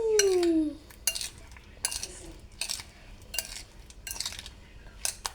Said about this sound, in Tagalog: Ihalo lang natin.